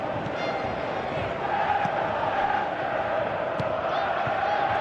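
A large football stadium crowd at a World Cup final between Argentina and Spain gives a steady, distant roar of applause and murmuring that swells slightly partway through, with no clear individual voices.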